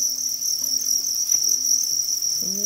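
Thai crickets on a cricket farm give a steady, bright, high chirring that runs without a break through the whole stretch, with a few faint low tones underneath.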